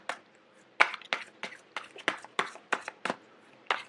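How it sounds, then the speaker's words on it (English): Crisp riffling bursts of tarot cards being shuffled, about a dozen sharp flicks at an uneven pace, close and fairly loud. "I'm going to get the last two shuffled out."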